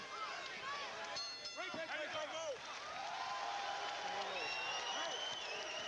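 A crowd at a live MMA bout, cheering and hollering in a dense, steady roar at a moderate distance, with shouts and whistles rising out of it.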